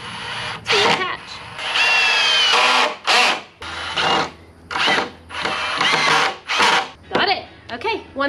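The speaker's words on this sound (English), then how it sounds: "I'm using 2½-inch pocket hole screws" A power drill drives 2½-inch pocket hole screws into wood during a canopy bed build, in several loud bursts of whirring and ratcheting separated by short pauses, with speech in between.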